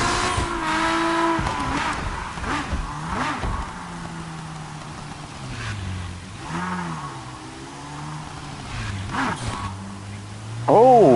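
A revving car engine rises and falls in pitch with repeated gear-shift sweeps, steady and fairly loud, with an electronic, game-like quality, from the Night Stalker car in the video game Wreckreation.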